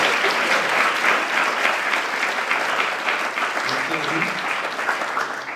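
A conference audience applauds the round table speakers with dense, loud, continuous clapping that holds steady for several seconds before tapering slightly at the end.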